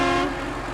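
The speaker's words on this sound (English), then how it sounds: "And then honk." A truck horn in SnowRunner, an off-road trucking game, sounds one loud, sustained tonal blast that holds steady for under a second.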